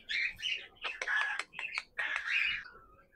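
Pet birds chirp and twitter in quick, close bursts while feeding, bright overlapping tweets with short pauses between calls.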